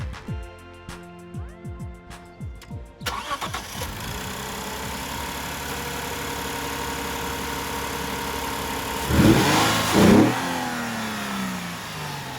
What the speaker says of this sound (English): Now let's see what the intake sounds like.